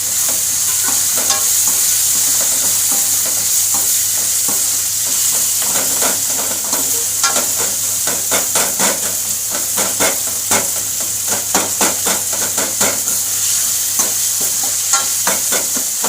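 Tomatoes fry in hot oil for an egg gravy, giving a steady loud sizzle. A spoon stirs them with repeated scraping and clacking strokes against the pan.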